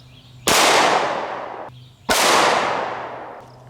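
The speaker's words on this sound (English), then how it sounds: "I have a Glock 19, and I'm gonna be using some Underwood ammo, 9mm plus P, 147 grain jacketed hollow points" Two loud, close gunshots from a Glock 19 pistol firing 9mm +P 147 grain Underwood jacketed hollow points at a transparent shield, each a sharp crack with a long echoing decay.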